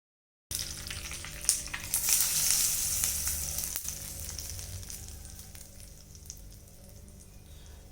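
Mustard seeds sizzle and crackle in hot oil for a South Indian tadka for peanut chutney, starting abruptly loud with a few pops, then fading steadily as the spluttering dies down, close up.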